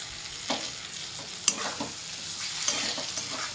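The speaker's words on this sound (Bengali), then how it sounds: "এবার এটাকে একটু নেড়ে চেড়ে নেবো।" A banana flower dish fries in a pan with a steady sizzle while a utensil stirs it, scraping and tapping against the metal a few times, close and alone.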